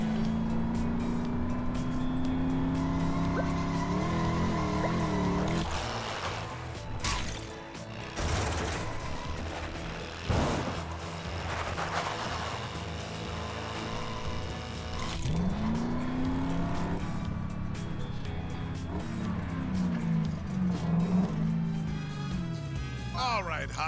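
Toy cars in the LEGO 2K Drive racing game rev and drift, engine pitch rising and falling with tire squeals and mechanical clatter, continuous and loud, while a voice talks over it at times.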